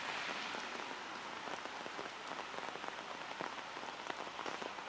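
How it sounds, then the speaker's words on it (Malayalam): Heavy monsoon rain pours down in Kerala, a dense, constant hiss of drops drumming on surfaces with no voices, heard close and steady throughout. "മഴ നല്ല തകർത്ത് പെയ്യുകയാണ്."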